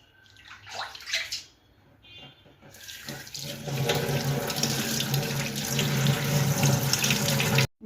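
Greens being washed under a running kitchen tap, starting with a few short splashes and then a steady, loud gush of water that lasts until an abrupt stop, close by with no talking.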